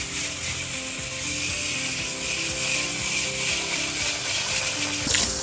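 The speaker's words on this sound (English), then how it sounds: "So I'm using my garden hose from the interior now and spraying outward." A garden hose sprays water from the inside outward through the fins of an A/C condenser, a steady hissing spray with rattling, clicking patter against metal throughout, and no speech.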